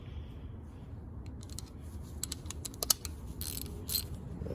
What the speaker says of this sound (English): Have to get a ratchet for those.